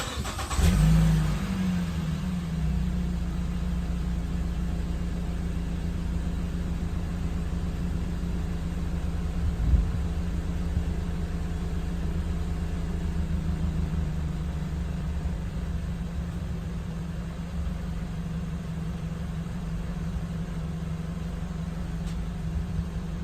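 A 2016 Ford Escape engine starts, then idles with a steady, loud, close hum and a brief rev partway through.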